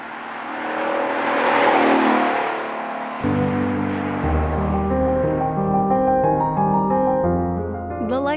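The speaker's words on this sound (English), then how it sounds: "a wailing, naturally aspirated V8 yellow Lexus sports coupe deserves" A yellow Lexus LC 500 sports coupe with a naturally aspirated V8 revs hard and loud, swelling to a wailing roar, then settles into a steady, throaty drive with clear engine harmonics shifting through the gears.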